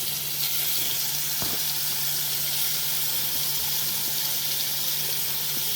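Paneer pieces fry in hot oil in a pan, giving a constant bright crackling sizzle that stays steady and close throughout, with one faint tap and no talking.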